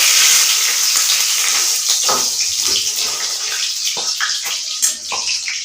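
A bay leaf drops into hot oil for a cauliflower-stem bori chachchari, giving a steady hiss with crackling spurts and a few scraping stirs close by.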